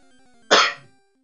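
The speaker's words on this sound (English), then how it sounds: "Sorry for coughing into the mic." A single loud, harsh cough bursts out close to the microphone, then fades quickly into silence.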